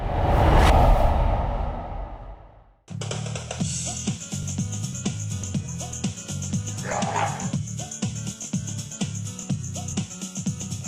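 Bulldogs at a bulldog specialty dog show in Ontario, California, barking in a repeated rhythmic series of close, loud barks that continue steadily for most of the stretch after an initial burst of mixed noise.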